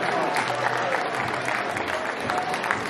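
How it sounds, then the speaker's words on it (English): Audience at a beetleweight robot combat event breaks into brisk, steady applause after the fight, close and continuous with a few scattered cheers. "A round of applause for all 14."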